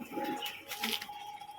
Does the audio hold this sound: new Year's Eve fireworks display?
no